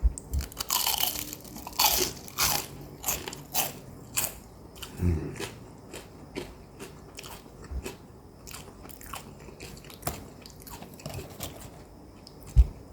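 Loud crunching bites into crispy fried shrimp chicken, followed by repeated chewing crunches that grow softer and more spaced out, all close to the mouth.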